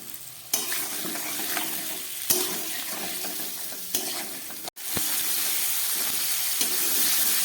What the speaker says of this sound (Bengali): শিম আলুটাকে খুব ভালো করে নুন হলুদ দিয়ে ভেজে নিলাম